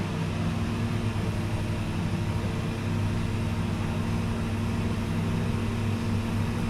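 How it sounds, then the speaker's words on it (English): A 2021 GMC Sierra 1500 with an 8L90 transmission, fresh from a torque converter replacement, is held in drive while its engine runs at about 1500 RPM, giving a steady, low, continuous drone with no change in pitch. "I'm gonna rev it to about 1500 RPM"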